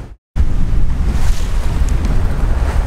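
Wind rushes and waves wash against a sailboat under jib on a windy passage, loud and close, with constant microphone buffeting after a brief dropout at the start.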